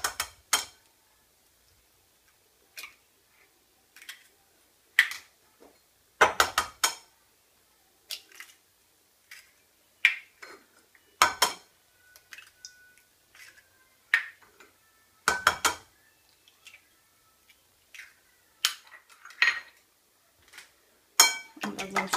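Four eggs being beaten in a bowl for a savory cake, a whisk or fork clinking against the bowl in short irregular clusters of sharp taps separated by quiet gaps, close and clear.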